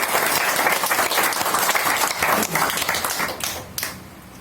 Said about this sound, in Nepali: हाम्रो परमेश्वरलाई जोरदार ताली